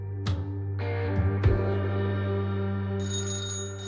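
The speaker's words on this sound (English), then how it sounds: "A call comes in on the diner phone." A diner telephone rings in a series of bright electronic tones with sharp onsets, sustained and fairly close over a steady background hum, with no talking.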